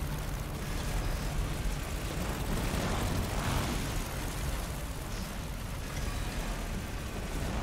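A steady, dense roar of fire from the mechanical Engine Dragon boss in Resident Evil Village, a continuous loud rushing blast that holds for the whole stretch, with no pause and no speech.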